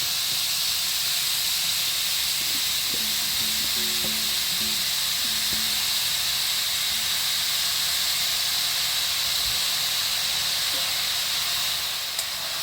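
Chopped taro stems sizzling in hot coconut oil in a pan, a steady close hiss that carries on throughout with little change.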